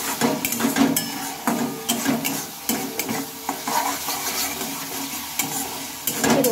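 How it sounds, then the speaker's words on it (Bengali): A spoon scrapes and stirs sizzling masala in a pan for bitter gourd curry, with repeated metal-on-pan strokes over a steady fry and no talk. "এবার একটু নেড়ে চেড়ে নেবো।"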